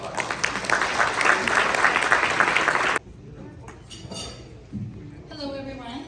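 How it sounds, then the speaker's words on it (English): Conference attendees in Toronto applaud a speaker, a dense burst of clapping that stops abruptly halfway, followed by quieter room noise and a voice. "A round of applause for Laura."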